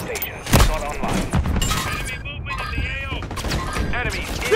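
Call of Duty multiplayer firefight with bursts of gunfire, sharp shots and impacts scattered throughout amid game effects, with voices calling out over the action.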